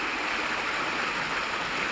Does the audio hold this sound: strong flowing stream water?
yes